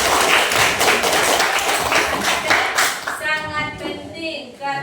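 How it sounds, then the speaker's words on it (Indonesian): Brief applause from a small group in a classroom coaching session for a good answer, dense close clapping for about three seconds that thins into a few last claps, with a voice speaking over the tail. "Kita kasih aplaus dulu"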